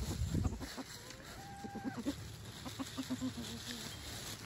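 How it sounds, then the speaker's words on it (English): Three gold hens and a rooster cluck softly in a run, with a light scatter of pecking and rustling underneath and a faint, brief voice in the background. "3 gold hens and the rooster"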